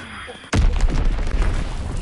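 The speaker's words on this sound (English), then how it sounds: "Enemy bomb incoming" A bomb explodes in a PS4 video game with a sudden heavy boom that rolls on as a loud, rumbling, debris-filled roar, following a quieter stretch of game sound.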